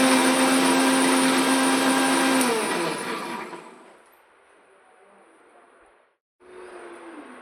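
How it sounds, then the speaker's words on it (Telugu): An electric mixer grinder whirs loudly while blending a ragi smoothie, then winds down and fades out, goes briefly silent, and starts up again with a lower, quieter hum. "మరొకసారి మిక్సీ చేసుకోండి."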